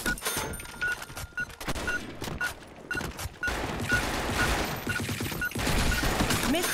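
Gunfire in the online shooter BlackShot, rapid bursts of shots in quick repeated volleys mixed with thuds and game effects, loud and busy with no speech.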